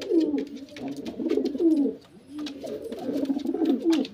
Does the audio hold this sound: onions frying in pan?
no